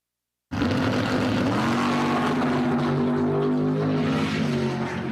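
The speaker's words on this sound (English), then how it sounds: "dragster in the left lane" A Haskell Racing dragster at Empire Dragway roars down the left lane, a loud, sustained engine blast with steady pitch that kicks in abruptly after brief silence and holds strong throughout.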